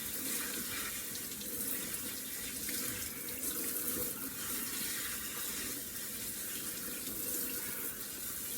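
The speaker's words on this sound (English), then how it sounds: "Wash that all hot, cold." Tap water runs steadily into a sink while fresh farm or garden vegetables are washed, a constant close rushing splash with no break and no speech.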